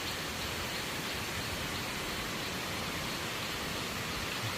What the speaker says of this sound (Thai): ทางเดินเลาะเข้าไปดูน้ำตกครับท่านผู้ชม